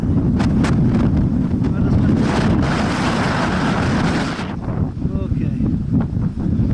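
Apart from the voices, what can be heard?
strong wind on a mountain summit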